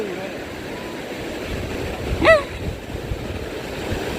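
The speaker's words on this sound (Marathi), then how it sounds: "ही येईल ही वाली लाट येईल" Steady wash of ocean surf on Tarkarli Beach, Malvan, with wind buffeting the microphone, and a brief high chirp partway through.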